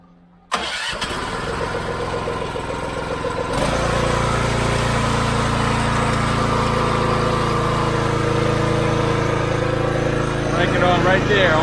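A pressure washer engine fitted with a WaterBoss WB 750 soft wash gun cranks, catches and settles into a steady, loud running drone close by, continuing unbroken to the end.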